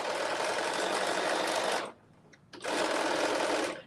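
Close, loud whir of a sewing machine stitching athleisure garment pieces together: a steady burst of nearly two seconds, a brief half-second pause, then a second equally strong run.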